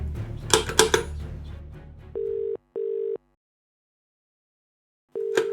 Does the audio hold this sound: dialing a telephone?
yes